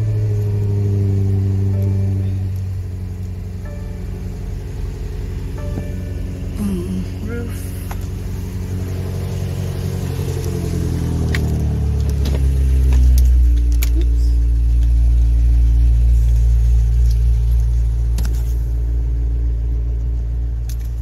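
BMW X6 engine cranking to life and settling into a steady idle, a deep continuous rumble close up, with someone talking over it.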